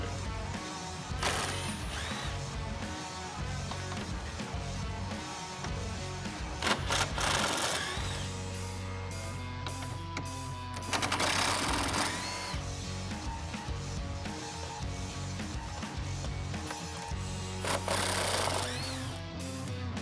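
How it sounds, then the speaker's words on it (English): An impact gun with a 10mm socket removing grille bolts on a 2018-2019 Ford F150, with a few short loud rattling bursts over a steady mechanical background hum. "we're going to grab the impact gun and a 10mm socket"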